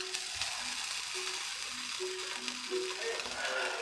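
Mushroom cream gravy for Salisbury steaks bubbles and sizzles steadily in a pan on low heat, a close, continuous crackling simmer with faint tonal hums underneath.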